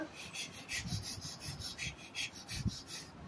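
Someone mimics the sound of brushing with their voice: a soft, steady run of breathy scrubbing strokes, about two or three per second, close and fairly quiet.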